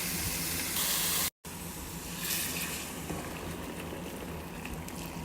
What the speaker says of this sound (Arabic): وهنا دا احمص اللحم